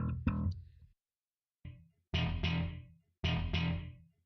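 Distorted electric guitar tone for a Helix preset, a few short chords struck and left to ring, then two stronger sustained chord hits, each decaying into silence between strikes.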